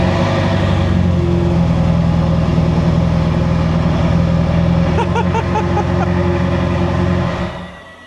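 Ferrari 360 engine running steadily with a loud, continuous low droning idle, a brief rise in revs partway through, then fading out at the end.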